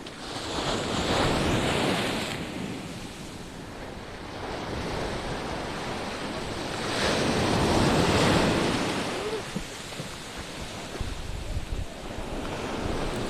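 Ocean waves break on the beach at Lamai, Koh Samui, a loud rolling surf that swells and recedes in several surges, mixed with gusty wind noise across the microphone.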